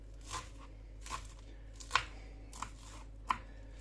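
A knife chops vegetables for borscht on a board: five quiet, crisp strikes spaced irregularly over a low, steady background hum.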